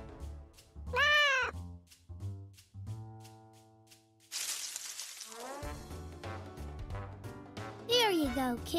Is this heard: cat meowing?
yes